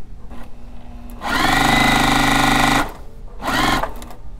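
A sewing machine runs at fast speed in two bursts, a loud, close, rapid mechanical whir lasting over a second, then a shorter run after a brief pause, with no talk.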